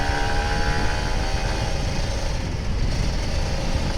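An old Kawasaki Ninja RR 150 two-stroke motorcycle is ridden at full throttle on a night ride, its engine holding a loud, steady, buzzing roar close by throughout, with no talk.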